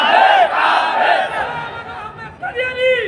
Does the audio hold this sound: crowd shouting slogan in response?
yes